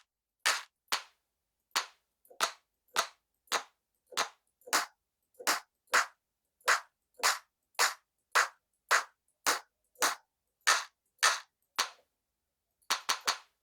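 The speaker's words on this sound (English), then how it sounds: "Go down to my Ghost Hack claps here." Drum machine clap samples from the Ghost Hack pack, triggered in FL Studio, snap out about twenty times in a steady, evenly spaced sequence, crisp and dry, ending after a pause with a quick cluster of rapid claps.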